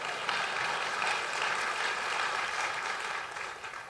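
Audience applause fills a political rally hall at the Iowa Freedom Summit, a dense steady wash of clapping that holds strong throughout and eases slightly near the end, with no talk over it.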